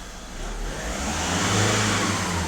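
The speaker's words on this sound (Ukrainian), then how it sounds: "Сама вона газує." A Skoda Octavia 1.6 TDI diesel engine revs steadily under diagnostic testing, its low throbbing note rising and holding loud and close for the whole stretch without any talk over it.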